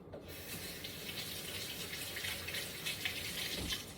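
Tap water runs steadily into a kitchen sink while fresh spinach is washed, a continuous even hiss with no talking over it.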